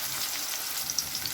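Tempe frying in a pan, a steady close-up sizzle of hot oil with small crackling pops and no voices over it.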